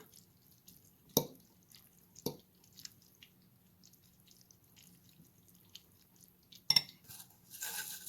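Pomodoro linguine being tossed with chili flakes: a few soft utensil clinks and faint wet squishes, spaced out and quiet, with low background hum between them.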